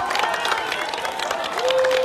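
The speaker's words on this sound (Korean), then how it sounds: "우레와 같은 박수와 목소리가 터지고 있습니다" Crowd at a political rally bursting into cheers and thunderous applause, a dense continuous roar of clapping and voices filling the short stretch, with a sustained whistle-like tone rising near the end.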